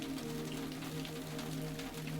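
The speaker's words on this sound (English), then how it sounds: "accompanied by the sound of falling rain" Steady rain falls on a surface at night in London, a soft even wash of patter with no voices.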